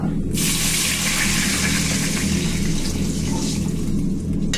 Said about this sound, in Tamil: அதுல கொஞ்சம் தண்ணியை ஊற்றிக்குவோம்.